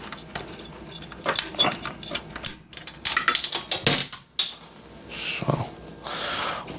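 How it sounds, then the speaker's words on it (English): Metallic clicks, scrapes and rattles of a bolt being worked loose and pulled from a 1995 Harley-Davidson Softail Evo, close and irregular, with bursts of handling noise and a hiss-like scrape near the end. "Pop this bolt out so we don't lose it, and then we'll do the top one."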